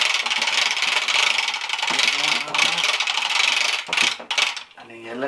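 Wind-up vintage Masters of the Universe Monstroid toy vehicle running, a dense whirring clockwork mechanism with ratcheting gear clatter, steady and close for most of the span before sputtering and slowing near the end.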